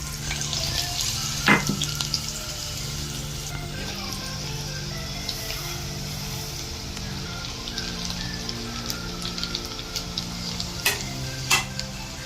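Garlic cooks in a mixed oil over a low gas flame, a steady soft sizzle and crackle with occasional spoon scrapes and small pops throughout.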